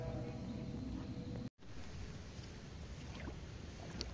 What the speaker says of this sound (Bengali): নৌকা নিয়ে যাইতেছি।